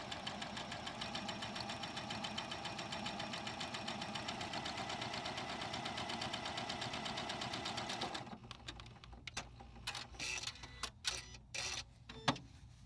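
A sewing machine stitching a quilt square runs in a steady, rapid mechanical chatter for about eight seconds, then stops, followed by a few soft handling clicks and taps.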